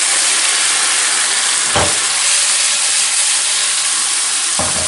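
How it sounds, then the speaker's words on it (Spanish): Wine splashed into a hot frying pan over browned onion and garlic, giving a loud, steady sizzling hiss that runs the whole time with no voices. "el momento que echamos el vino"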